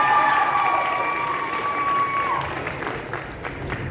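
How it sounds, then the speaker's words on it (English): Audience applause and cheering at a high school show choir cabaret, a full crowd clapping steadily for several seconds with a sustained tone fading beneath, fairly distant in a large hall. "Let's have a round of applause for those amazing"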